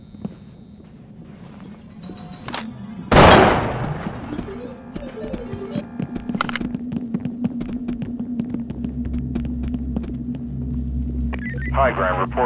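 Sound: gunfire from the video game SWAT 4

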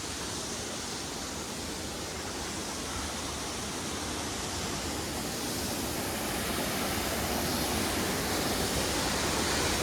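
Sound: waterfalls at Kondeshwar temple

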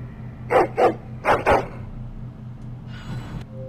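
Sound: dog barking in video game Dragon Age: Origins

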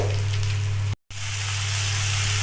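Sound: ginger garlic chili cumin turmeric paste frying in pan

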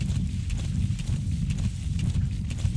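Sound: horse galloping hooves in the video game Metal Gear Solid 5

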